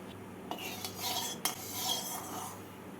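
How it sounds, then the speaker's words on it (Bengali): Potatoes and pumpkin frying together in oil in a wok, with a soft steady hiss and a few sharp metal clinks and scrapes of a stirring utensil, close by and fairly quiet. "আলু আর কুমড়োগুলোকে আমি একসাথেই ভেজে নিচ্ছি"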